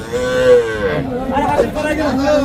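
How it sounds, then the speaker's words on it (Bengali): A small crossbred calf gives a drawn-out, wavering moo at a cattle market near Dhaka, close and loud, with faint crowd chatter behind. "পাশে একটা ক্রস জাতের ছোট্ট বাছুর আছে"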